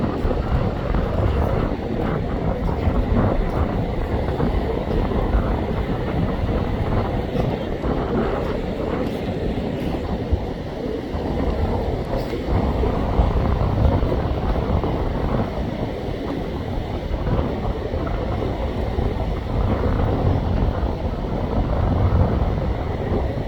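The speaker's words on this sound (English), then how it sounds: "it's blowing 25 to 30 out here. It's very, very gusty." Strong gusty wind roars across a beach on South Padre Island, Texas, battering the microphone in a loud, dense, continuous rumble that never lets up.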